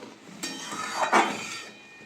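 A spoon stirs fish roe fritters in a pot of simmering sour curry, with a few close metallic clinks and scrapes against the pot and no talking.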